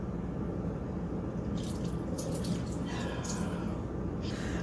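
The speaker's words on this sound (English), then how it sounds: "you then pour it directly into the containers with your Lifesaver pebbles cut up in the bottom" Liquid Jello pours into several containers holding cut-up Lifesaver candy pieces, a soft steady trickle and splash with small drips, close and alone over a faint background hiss.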